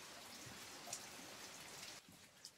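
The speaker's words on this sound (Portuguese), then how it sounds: "Hoje é um dia chuvoso aqui na roça. Tá frio, tá gostoso, tá chovendo." Steady rain falling on a cold, rainy day in the countryside, a faint even hiss of drops with a few soft drips standing out and no voices.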